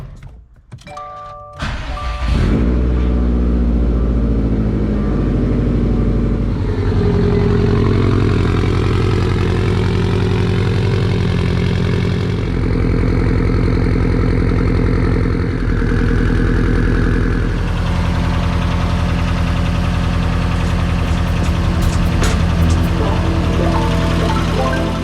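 A Subaru WRX STi starts up after a transmission and center differential fluid change, then settles into a loud, steady idle that warms up for over twenty seconds, heard close.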